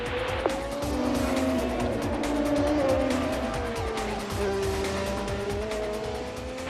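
IndyCar race cars run on a track, high engine whines sweeping up and down as they pass at a distance with some tire squeal, a dense steady roar under faint commentary.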